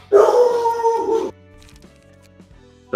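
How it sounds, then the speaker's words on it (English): A pet dog gives one long howling, wooing bark-like vocalization close to the microphone, lasting about a second, followed by quiet room noise and a brief start of another sound at the end. "I apologize for my dog."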